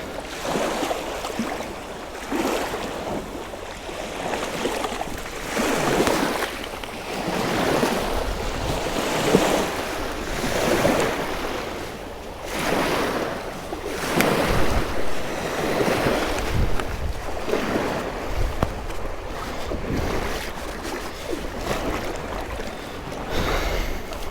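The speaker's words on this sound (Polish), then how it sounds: "Ale fala dzisiaj." Waves surge and wash in repeated swells, mixed with steady wind buffeting the microphone, no voices over the rushing water.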